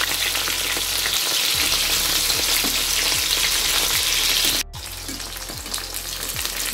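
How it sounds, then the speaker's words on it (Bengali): Cabbage deep-fries in plenty of oil, a loud, dense, continuous sizzle with a slow rhythm of stirring strokes and a momentary break near the end. "এইভাবে লাল লাল করে ভেজে নিয়ে ডুবু ডুবু তেলে"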